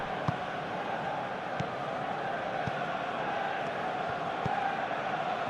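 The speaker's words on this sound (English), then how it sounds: "the crowd are reacting to that now" A stadium crowd in the PES 2021 football video game keeps up a steady, broad roar with a few faint thuds. No voices come through in the foreground.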